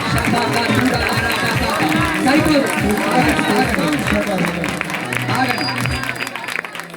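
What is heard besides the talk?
congregation clapping and praising loudly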